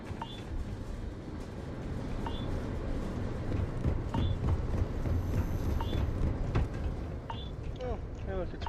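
Horse hooves clip-clop in a steady walking rhythm in the game Starfield, set under a dense rumbling background, with someone briefly speaking over it.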